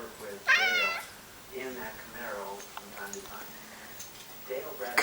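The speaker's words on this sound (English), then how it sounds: "Crazy cat." A cat lets out a loud, rising meow followed by a few softer, drawn-out meows at close range, heard alone with faint room noise.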